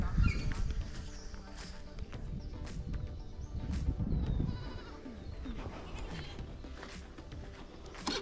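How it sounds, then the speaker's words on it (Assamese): Goats bleat now and then over a busy outdoor background on Majuli, a Brahmaputra river island, with a few brief calls rising above low rumbling and scattered voices. "বৰ ধুনীয়া ধুনীয়া ছাগলী আছে অ' ইয়াত।"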